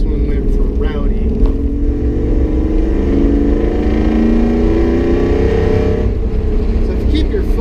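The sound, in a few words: Ford Bronco engine revving through Borla stainless steel exhaust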